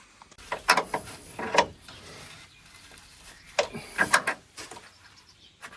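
A hand wrench works at old screws while an abandoned 4x4 is taken apart, giving sporadic close metallic clicks and scrapes in a few short clusters separated by quieter stretches.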